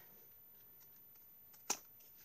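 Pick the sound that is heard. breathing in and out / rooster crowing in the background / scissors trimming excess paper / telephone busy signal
scissors trimming excess paper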